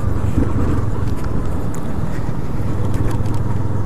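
A new Yamaha Fazer 250 motorcycle revs and pulls away, its engine drone steady and fairly loud beneath heavy wind buffeting the rider's microphone.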